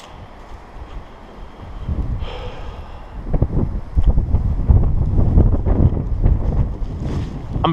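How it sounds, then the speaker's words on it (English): Strong winter winds gust through Linville Gorge, starting as a low roar and building into heavy, buffeting rumbles that batter the microphone. The gusts are loud and sustained, with no voices. "I'm pretty sure the wind is supposed to subside a little bit too."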